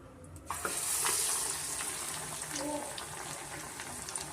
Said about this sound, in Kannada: ಎರಡು ಸೈಡು ನಾವು ಸ್ವಲ್ಪ ಮೀಡಿಯಂ ಫ್ಲೇಮಲ್ಲೇ ವಡೆನ ಬೇಯಿಸ್ಕೊಬೇಕಾಗುತ್ತೆ